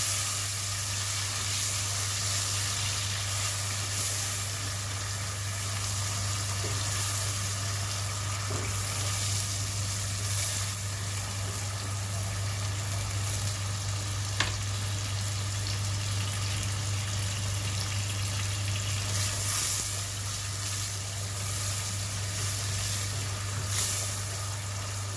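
Tomatoes sizzle and fry in a pan while cooking fermented fish with rice, giving a steady, even hiss with a low hum beneath it throughout, and no talking.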